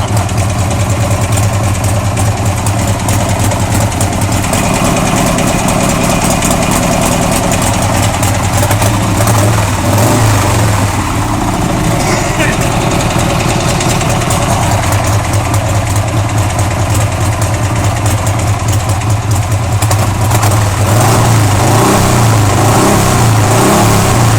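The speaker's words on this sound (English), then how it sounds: "she's running good. When it has a throttle response like that, that means nothing's gummed up in the carburetor" 1989 Harley-Davidson motorcycle engine running loud and close, a steady lumpy idle with repeated throttle blips rising and falling, continuous throughout with no talking.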